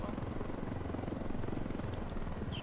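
A helicopter in the tactical shooter game Ghost Recon Wildlands flies steadily overhead, with a loud continuous rotor chop and engine roar filling the whole stretch and no pauses.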